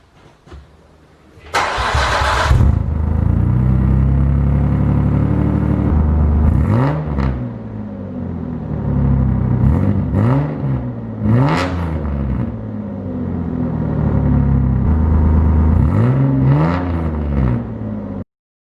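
A Nissan R34 Skyline engine starts and runs loudly through a deep, raspy custom-welded exhaust, with several sharp revs rising and falling over a rumbling idle.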